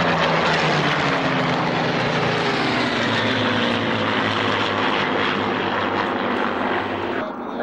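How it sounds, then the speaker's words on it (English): A Hawker Hurricane and a Messerschmitt Me 109 fly together at an airshow, their piston engines and propellers making a loud, steady roar that fades slightly at the end, with no one speaking. "A duo, Hurricane and ME-109. There's a combination."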